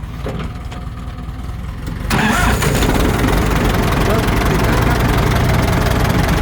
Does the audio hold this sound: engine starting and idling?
yes